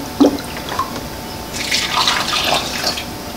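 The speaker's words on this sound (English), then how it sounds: "Get the smaller measuring cup and pour some water in." Water poured into a small measuring cup while making pancake batter, a soft close trickle and splash lasting a couple of seconds after a brief clink.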